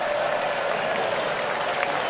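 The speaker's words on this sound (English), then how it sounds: "A big cheer." A comedy theatre audience at an Al Murray stand-up show claps and cheers in a dense, steady wash of applause that fills the whole moment at an even, fairly loud level, with no talking over it.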